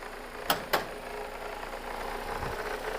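A Mercedes-Benz 124 T-Modell estate car idles with no foot on the throttle, giving a low, steady hum with two sharp clicks near the start.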